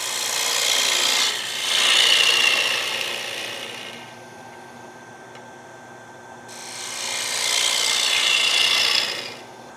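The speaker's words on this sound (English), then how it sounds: "Now it's all about just cutting this." A lathe tool scrapes across a spinning square wooden bowl in long, loud passes, with a quieter stretch in between as the cutting eases off.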